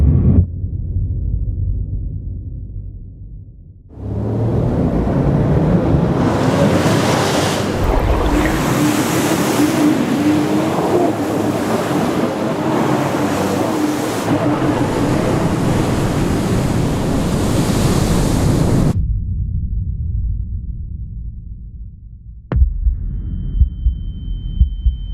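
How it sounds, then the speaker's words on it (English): Big surf at J-Bay breaks with a sustained, thundering roar that rushes in after a quieter start, holds for about fifteen seconds, then cuts off. A sharp knock and low rumble follow near the end. "I want to ride these waves"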